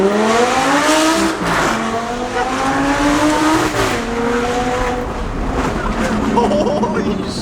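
A BMW E30 on air suspension drives by loudly, its engine revving up and down in rising and falling sweeps with some tire squeal, steady and fairly close throughout.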